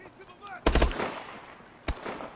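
Two bursts of video-game gunfire in Call of Duty: Advanced Warfare: a loud automatic volley lasting a fraction of a second, then a single sharp shot about a second later, over a faint background bed.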